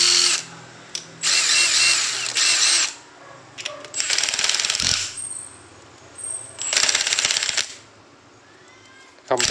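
A Makita TD132 brushless impact driver runs in about four short bursts of high whirring and clattering, close and fairly loud, with quieter pauses between them.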